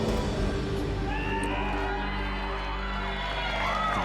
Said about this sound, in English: You can hear the crowd cheering now.